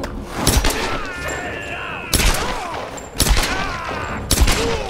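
Gunfire in the 2013 Tomb Raider video game: four sharp, loud shots spaced about a second apart, ringing over game ambience and music.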